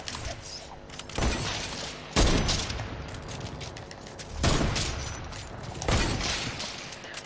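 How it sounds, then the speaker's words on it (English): In Fortnite, a few sharp, loud gunshots fire at irregular intervals, each followed by a short rumbling decay, over a busy background of game noise. "Stop fucking shooting when you're on the floor, you dull twat"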